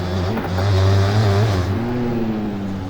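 Dirt bike engine in the MX Bikes motocross game on a Unadilla track: a steady, buzzing engine note that rises and falls with throttle, loud and close, with no talk.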